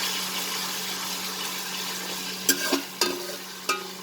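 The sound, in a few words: sauteing onion on low flame for potato pulao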